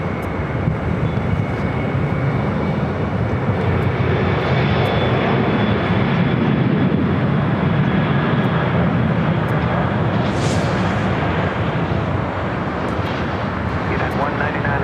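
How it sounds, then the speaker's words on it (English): Heavy jet airliner taking off on the south side at LAX, a loud, sustained broadband engine roar that holds steady throughout, with radio-style talk over it. "We got a Heavy taking off on the south side."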